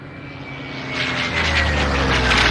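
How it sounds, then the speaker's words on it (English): A Messerschmitt Bf 109 warbird skims low over an airshow, its piston engine droning loud and close, the roar swelling as it passes overhead. "Our 109 comes skimming back across the sky, turning left, turning right, trying to evade the Mustang"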